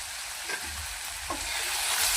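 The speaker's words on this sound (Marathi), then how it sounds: "हे मिश्रण आपण बारीक गॅसवरती परतून घेऊया." A tomato spice mixture with coriander powder, salt and black masala for rajma masala sautéing in a pan over a low flame, a steady soft sizzle with a couple of faint stirring scrapes, close and without speech.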